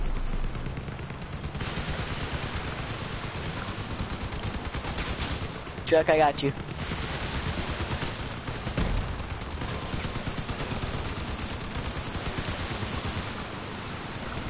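Bursts of vehicle weapon fire from a Crossout battle rattle steadily through the whole stretch, with a louder cluster of impacts near the middle, while players talk over it.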